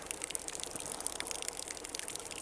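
Solar-powered garden fountain spraying water upward, a continuous hissing, splashing patter close by with no voices.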